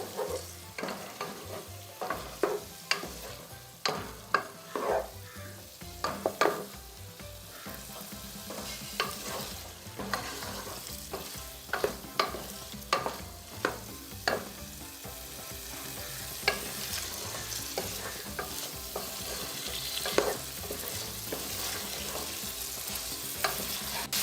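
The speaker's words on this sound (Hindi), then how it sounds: "थोड़ा सा हम चूल्हा तेज़ करेंगे, ज़्यादा नहीं, और थोड़ा थोड़ा करके डालेंगे और साथ चम्मच चलाएंगे" Beaten eggs poured a little at a time into a frying pan over raised heat and stirred with a spoon, a steady sizzle under frequent clicking and scraping of the spoon against the pan, close and without talk.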